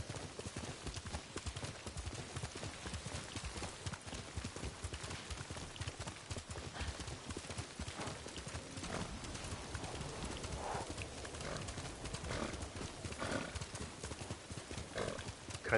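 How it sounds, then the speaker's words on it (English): Horse hooves gallop steadily through a forest in the video game Ghost of Tsushima, a busy continuous clatter blended with game music and ambience, with no talking. "A good horse."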